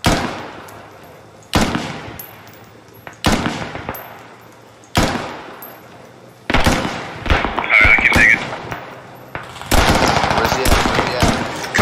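Loud, sharp gunfire in a military video game where a squad fights a Russian attack: single heavy shots at regular intervals, then denser bursts, with voices now and then in between.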